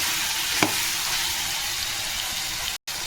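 Chicken frying with garam masala and being stirred in a pan: a loud, continuous close-up sizzle with one faint utensil tap, cut by a short dropout near the end.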